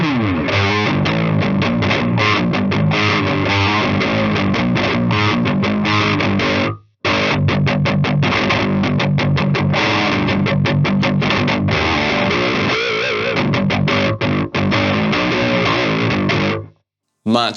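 A gritty electric guitar through a Demonfx Precision Drive overdrive pedal and Harley Benton Mighty 15th amp plays continuously in dense, driving chords, loud and up front, with a couple of short pauses.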